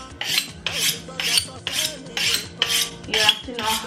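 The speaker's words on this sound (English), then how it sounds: "I sharpen my knife" A kitchen knife is drawn through a sharpener in about seven even, rasping strokes, loud and close, with a metallic scrape on each pass.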